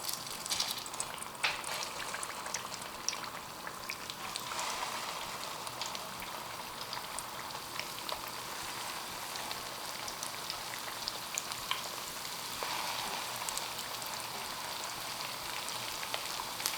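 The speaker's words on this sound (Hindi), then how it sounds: "तेल हमारा गर्म हो गया है, अब हम आहिस्ते आहिस्ते इसमें अपने कोफ्ते डालेंगे" Mutton nargisi koftas fry in hot oil, a steady soft crackling sizzle with scattered pops throughout, moderately quiet and without voices.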